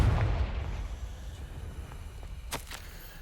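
A Confringo fire spell in Hogwarts Legacy bursts into a deep, booming explosion that fades into a rumbling tail, followed by a couple of sharp snaps, loud at first and dying away.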